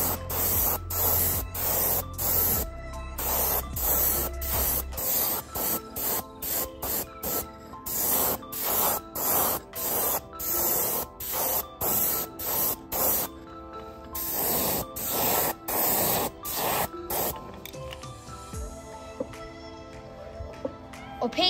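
An airbrush sprays opaque white paint onto a muskie glide bait fishing lure, hissing in many short repeated bursts with brief gaps, close and fairly loud, with no talking.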